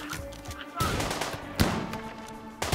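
Gunfire in the sci-fi colony game Rimworld: irregular bursts of shots and impacts crack over a busy game soundscape, with a loud hit around the middle and another burst at the end.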